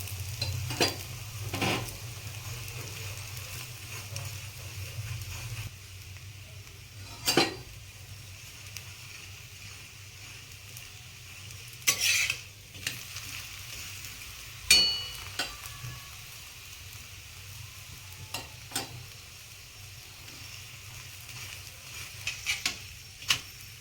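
Methi thepla cooking with oil on a pan gives a faint, continuous sizzle under low background hum, broken by occasional scrapes and light clinks of a utensil against the pan.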